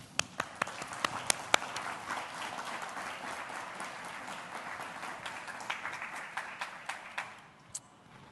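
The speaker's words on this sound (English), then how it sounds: "give them a round of applause" Audience applause in a conference hall as a panel walks onto the stage at a brand-deals talk, dense steady clapping throughout with a few sharp louder claps up front, then thinning out near the end.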